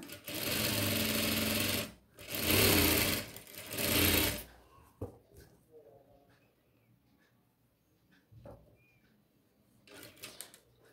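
A sewing machine stitches a lined chudithar top in rapid loud bursts, three runs of a couple of seconds each, followed by quieter handling of fabric and a few soft knocks, with speech in between.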